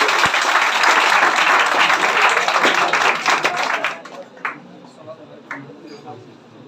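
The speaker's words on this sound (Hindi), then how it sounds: "एक जोरदार ताली" A crowd applauds at a school toppers' award ceremony for the 2021-2022 session, with loud, dense clapping for about four seconds that then thins to a few scattered claps and taps.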